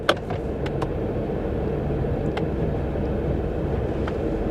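A 2021 Ford F-150 pickup runs in four-wheel drive, its engine giving a steady low rumble with a few faint clicks and knocks near the start.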